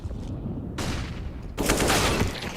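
Desert Eagle pistol fire in a Counter-Strike professional match, a dense burst of gunfire sounds with broadband bursts that grow louder toward the end, heard without speech.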